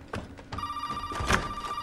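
In the horror video game Resident Evil 7, a telephone rings with a sustained electronic bell tone amid a few thumps and ambient game noise, moderately loud, with no speech over it.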